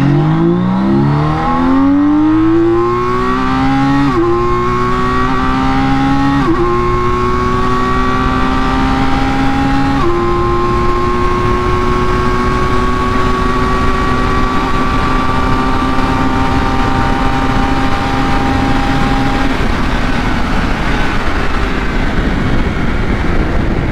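A 2022 BMW K1600 motorcycle with an ECU flash tune accelerating hard in race mode, its engine note climbing steadily through several gear shifts, loud and continuous for the whole stretch.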